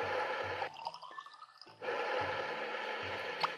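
A measuring cup fills with water in the adventure game Runaway, with a bubbling, gurgling pour that stops briefly midway, then resumes and ends with a drip.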